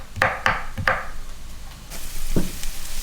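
Garlic slices sizzling in a frying pan with a few close wooden knocks and scrapes at first, then a steady soft hiss of frying.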